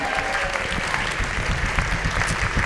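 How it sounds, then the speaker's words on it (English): Sustained applause from a poetry slam audience at a library after scores are read for a teen poet, dense steady clapping filling the room without a break, with no speech over it. "please keep your wonderful applause going"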